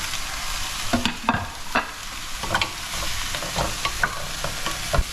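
Pieces of bluefin tuna sizzle steadily in hot oil with salt and pepper, the dense crackling punctuated by irregular clinks and scrapes of stirring in the pan, close and moderately loud with no talking.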